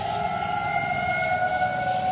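A civil defense siren test sounds an attack signal, a steady sustained wailing tone held at constant pitch, loud and continuous across the whole stretch with faint outdoor ambience beneath.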